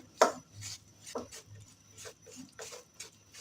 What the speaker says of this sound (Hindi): मुस्तकिल इसमें हम चम्मच चलाते रहेंगे।